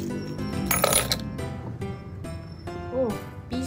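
A peso coin drops and clinks, several metallic rings and bounces sounding up close, with some voice in the background.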